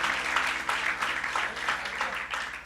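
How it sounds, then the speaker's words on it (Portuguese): A church congregation at a Lisbon service applauds visitors with continuous, fairly distant applause, a soft wash of many hands clapping that holds steady throughout. "Você pode aplaudir a vida desses visitantes, em nome de Jesus."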